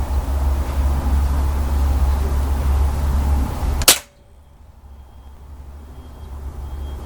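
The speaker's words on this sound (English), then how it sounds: "so we'll take a shot at the ring" A Beeman 1357 air rifle fires a single sharp shot at a ring target during zeroing, a loud crack cutting through steady background rumble that then drops away to quiet.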